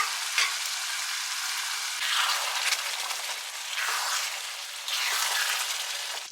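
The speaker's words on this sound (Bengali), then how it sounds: "এবার এর মধ্যেই না আমি শ্রেডেড চিকেনটা অ্যাড করে দিচ্ছি, তাহলে একটুখানি ভাজা ভাজা মতন হয়ে যাবে।" Shredded chicken frying in spiced masala in a pan, a steady hiss of sizzling with surges as the food is stirred and turned, close and fairly loud, no talking.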